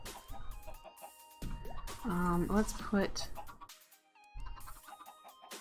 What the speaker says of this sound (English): Chickens everywhere, folks.